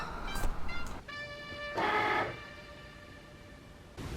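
A Cricut Explore Air 2 cutting machine runs a foil job, giving a steady whirring motor whine with tonal hum and a louder surge midway, after a few short clicks and bumps at the start.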